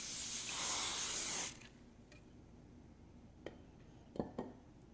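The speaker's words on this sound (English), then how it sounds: "Spray this lightly with oil." Cooking oil is sprayed lightly onto aluminium foil in a short, soft hissing burst lasting about a second and a half, followed by quiet room tone and a few faint clicks and taps.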